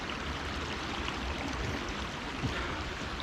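Peabody Creek flowing beside a forest trail in Olympic National Park, a steady soft wash of moving water with no voices.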